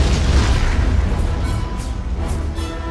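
Artillery cannon fire in the Napoleonic-era battle game Napoleon: Total War, a heavy sustained rumble of booming blasts rolling together across a swamp battlefield, loud and continuous without distinct pauses.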